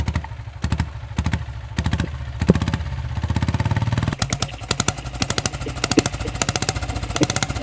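A 1995 diesel Bullet motorcycle with a Kamban diesel engine starts with a few uneven bursts, then settles into a steady, fast, chugging diesel thump close by, with clattery knocks throughout.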